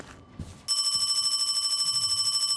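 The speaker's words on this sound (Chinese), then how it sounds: "电话的方向在哪里呢？" A telephone bell rings steadily and loudly in a Hong Kong horror video game, Paranormal HK, cutting in after a brief muffled thud and continuing as a rapid, even trill.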